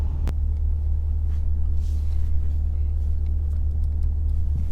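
A 2022 RAM 1500 Limited EcoDiesel truck cruises down a back road, heard from inside as a loud, steady, deep engine and road rumble with no notable changes in pitch and a single sharp tick near the start.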